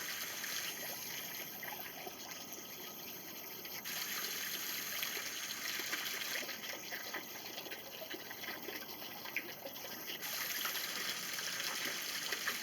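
Water flowing steadily over the old Elam dam at the remnants of a flour grist mill, a constant broad rushing wash heard alone at moderate distance.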